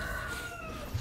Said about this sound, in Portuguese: Nossa, tem um galo cantando aqui.